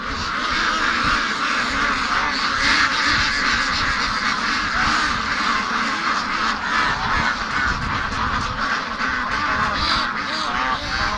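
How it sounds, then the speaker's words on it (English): Waterfowl on an icy creek mouth where brant geese gather, a dense flock calling steadily with overlapping quacks and honks, loud and continuous throughout. "Come on, ducks, walk to this end."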